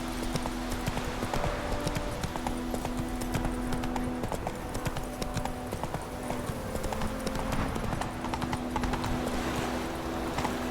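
Roach the horse gallops across open ground in The Witcher 3, hooves pounding in a fast continuous rhythm close up, with game ambience and a low steady tone underneath.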